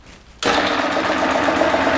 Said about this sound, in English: I'll turn on my old piston-powered air compressor